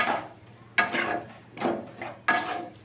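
A spoon scrapes through butter egg bhujia with chopped chili in a pan, making four distinct stirring strokes, each a short rasping sweep that fades before the next.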